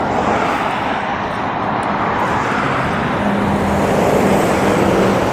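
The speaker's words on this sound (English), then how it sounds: "here comes a big lorry" A big lorry passing on a busy UK road, heard as a steady, loud broadband roar of traffic with a low engine drone rising slightly toward the end, no voices.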